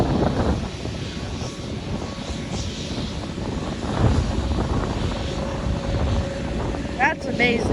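A Spirit Airlines Airbus A320neo, registration N930NK, takes off at Norfolk International Airport, producing a steady, broad jet roar mixed with wind buffeting on the microphone.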